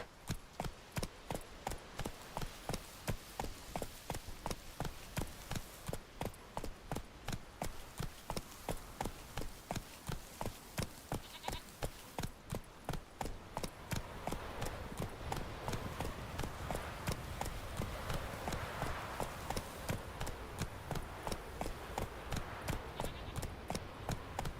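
A horse gallops across Skellige in The Witcher 3, its hooves pounding out a fast, steady clip-clop rhythm that carries on without a break for over twenty seconds, close and even.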